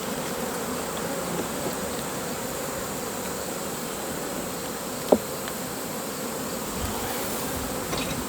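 Honeybees buzz steadily at an open hive whose comb is being packed with nectar, a dense, continuous droning swarm close by with one faint knock partway through.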